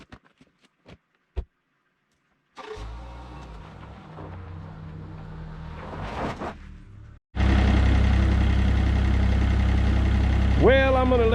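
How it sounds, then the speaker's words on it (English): A tractor engine idles, first as a low, steady rumble after a few sharp clicks, then suddenly much louder and closer as a constant, heavy drone that holds to the end. "I'm gonna let that tractor idle for a while, see if I can get it to come up to temp"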